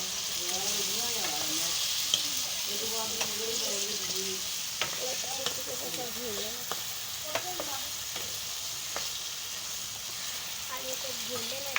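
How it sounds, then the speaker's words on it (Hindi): Masala frying on high heat for a potato and egg curry, a steady broad sizzle with scattered stirring clicks throughout, while someone talks over it. "अब इसको तेज़ आंच पे अच्छी तरह भून लेना है।"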